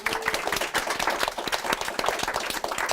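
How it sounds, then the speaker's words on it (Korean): Dense applause from a live talk-show studio audience for the MCs, loud and close, a steady wash of overlapping claps with a few sharper individual hits standing out. "여러분 수고하신 MC분들 박수 부탁드리겠습니다."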